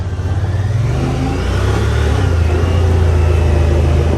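A 2021 Honda Pioneer 1000-5 side-by-side accelerating in automatic mode, its engine a loud, close, steady drone that rises in pitch through a quick shift. No voices are heard.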